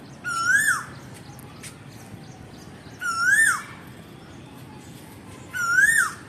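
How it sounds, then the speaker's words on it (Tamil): An Asian koel calls in an outdoor natural setting, three clear rising whistled notes spaced a few seconds apart, loud and fairly close over a steady low background hum. "குயில் பாடலாம்,"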